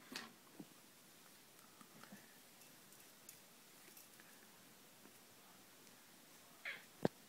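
A kitten meows faintly and briefly in a quiet indoor room, with a soft early call and a couple of short meows near the end against low background hiss.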